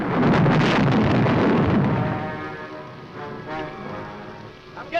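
Heavy rain pours down during a thunderstorm in an old horror film, a dense, loud, continuous wash that slowly eases, with a faint rumble behind it and a brief knock at the end.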